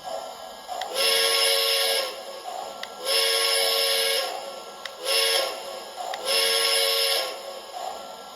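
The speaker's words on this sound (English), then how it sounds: "the first thing I want to check out is the whistle" A Lionel Chesapeake and Ohio model train whistle blows four times in long, steady toots of about a second each, separated by short gaps, loud and close with a hissing edge.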